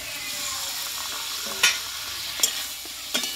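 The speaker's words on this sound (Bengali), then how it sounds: "একসঙ্গে মশলার সঙ্গে ভালোভাবে কষিয়ে নেব" Ash gourd stir-frying with spices and green chillies in a pan, a steady hiss of sizzling with three sharp spoon scrapes against the metal, close and without talk.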